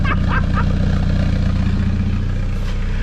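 A Ford Model TT engine idling with its exhaust fully plugged and gases escaping out the side: a steady, loud low-pitched chugging with regular rhythmic pulses, briefly broken by a few short voice-like sounds at the start.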